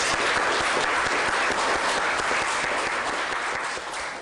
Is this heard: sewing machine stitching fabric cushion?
no